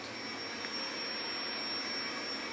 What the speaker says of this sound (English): picking up a nice vacuum cleaner here